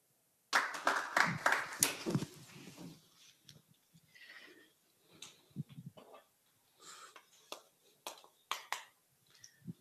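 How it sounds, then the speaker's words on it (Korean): A church congregation claps to welcome Pastor Ryu Kwang-soo at a worship lecture, a fairly distant round of applause that swells first, then breaks into scattered, intermittent claps. "목사님 나오실 때 큰 박수로 환영하겠습니다"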